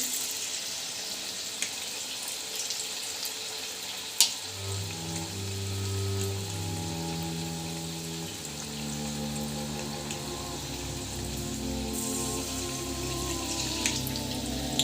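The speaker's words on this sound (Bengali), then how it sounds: "তো দেখুন, আমি বেশি ভাজবো না, এই হালকা করে ভেজে আমি তুলে নেব।" Gokul pitha, milk-soaked Bengali sweet dumplings, frying lightly in hot oil, giving a continuous soft sizzling and bubbling hiss that stays steady and close throughout.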